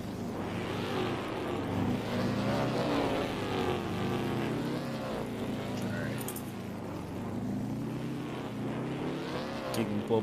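Derby cars racing in the Rigs of Rods game at a St Louis Dome event, engines droning and revving steadily throughout, with overlapping commentary talk running over the engine noise.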